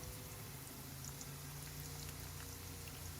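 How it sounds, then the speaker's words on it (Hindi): Finely chopped garlic sizzles in hot oil in a home kitchen, a soft, steady crackling hiss with tiny pops that stays even and quiet throughout, with no talking over it. "ऑयल गरम करके इसमें हमने लहसुन डाल दिया बारीक कटा हुआ"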